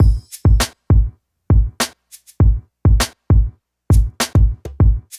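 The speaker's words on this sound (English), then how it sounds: "So all together, the final drum pattern sounds like this." A punchy 2000s-style hip-hop drum pattern with deep kicks and sharp snare or hat hits in a steady, looping groove, played alone with clear gaps between hits.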